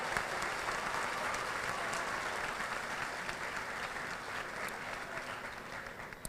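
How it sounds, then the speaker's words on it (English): Graduation audience clapping for a student speaker, a steady, full round of applause from a large crowd holding at even strength throughout. "Let's give Olivia one more round of applause for her accomplishments."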